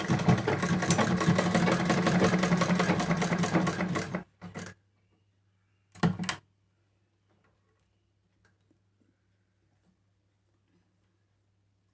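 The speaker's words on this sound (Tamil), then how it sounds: "இப்போ இங்கே ஸ்ட்ரெயிட்டாக ஒரு தையல் போட்டுக்குவோம்" A sewing machine stitching elastic onto a fabric hair band runs with a rapid, steady mechanical chatter for about four seconds, then gives two short bursts before falling quiet.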